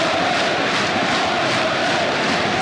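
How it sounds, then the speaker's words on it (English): A dense, loud home crowd at Headingley cheering and roaring during an England v Australia Ashes cricket Test, a continuous wash of voices with no break. "You can hear the crowd,"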